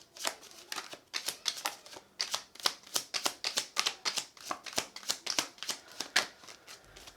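A deck of tarot cards is shuffled rapidly and close up, producing a long run of crisp, rhythmic riffling flaps and taps that never pause.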